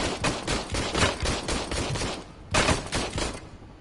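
Rapid bursts of gunfire ring out at a shooting range in RoboCop: Rogue City, two loud clusters of close, sharp shots separated by a short pause.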